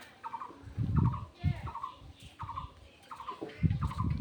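Ducks and chickens call nearby in a rural home kitchen yard, a run of repeated gobbling, clucking bursts coming in uneven clusters, fairly loud and close.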